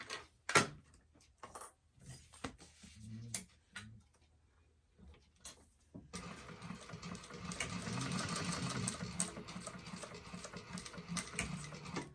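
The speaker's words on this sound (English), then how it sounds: "I'm going to go ahead and just do a top stitch from there to there" A sewing machine top-stitches a leather bifold wallet: a few scattered clicks and knocks, then a steady rapid mechanical whir of stitching that runs for several seconds, close and fairly quiet.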